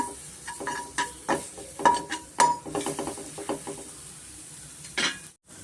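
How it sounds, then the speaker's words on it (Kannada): Grated ginger and garlic frying in a pan, a soft sizzle under repeated spatula scrapes and clinks against the pan, close and moderately loud, with a short gap near the end. "ಅದಕ್ಕೊಂದು ಸ್ವಲ್ಪ ರಾಸ್ ಮೇಲೆ ಹೋಗೋವರೆಗೂ ಸ್ವಲ್ಪ ನಾವು ಫ್ರೈ ಮಾಡ್ಕೊಬೇಕು"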